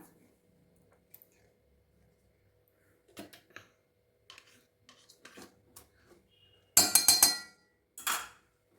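Softened butter is worked into banana walnut cake batter with eggs in a bowl: scattered soft scrapes and taps, then two louder, rasping stirring strokes near the end.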